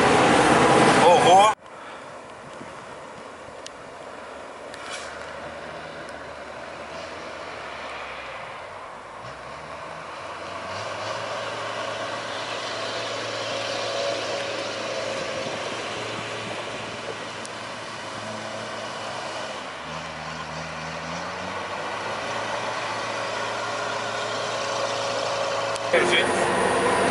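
Sherpa all-terrain vehicle on ultra-low-pressure tires driving over climbs, descents and a ford, its engine a steady low drone with shifting pitch throughout, heard from inside near the cabin without clear talk.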